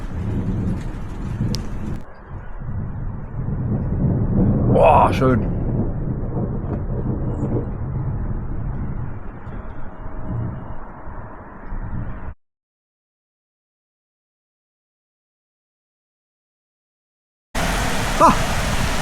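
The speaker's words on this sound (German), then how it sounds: "Ja, jetzt kriegen wir selbst hier in Friedrichshafen auch noch ein Gewitter." A thunderstorm breaks over Friedrichshafen with loud, continuous rumbling thunder and rain for about twelve seconds, a brief exclamation from a man partway through, then sudden silence before the storm noise returns.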